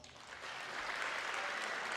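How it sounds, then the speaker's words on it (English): Audience applause at the close of a high school orchestra club recital, a soft, even patter of many hands that rises slightly and continues without any voices. "Can we give them one more round of applause?"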